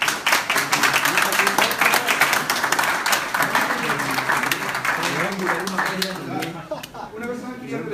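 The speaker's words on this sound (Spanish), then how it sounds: "¿Aplausos espontáneos nuevamente?" A crowd at a JavaScript developer meetup claps steadily, with talking and cheering mixed in, and the clapping eases toward the end.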